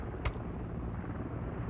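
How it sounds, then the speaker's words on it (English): A Mosquito drone flying in a first-person shooter game gives off a steady, dense mechanical whirr that holds level throughout, broken by one brief sharp crack near the start, with no talking. "Mosquito drone."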